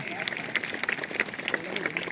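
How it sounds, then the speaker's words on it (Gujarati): A crowd claps in dense, lively applause at a taluka-level 77th Republic Day celebration with school performances in Talaja. The clapping is fairly faint and steady, with voices mixed in. "આપણે જોરદાર તાળીઓના ગડગડાટથી વધાવીએ."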